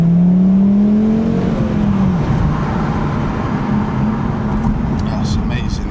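An Audi TT RS five-cylinder engine drones loudly, its pitch sliding down after a rev, with steady road and wind noise and faint talking underneath.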